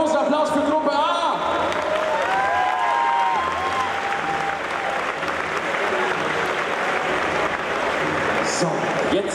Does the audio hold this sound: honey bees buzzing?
no